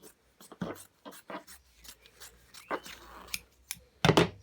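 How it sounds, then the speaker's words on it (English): Scissors slicing through the seam and bottom of a duvet, a series of close crisp snips and fabric rustles ending in a louder cut. "I'm actually going to just slice off the seam. And cut into the bottom."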